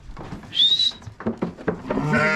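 A couple of goat bleats, one high and wavering, then a lower nasal call, close by with some shuffling between.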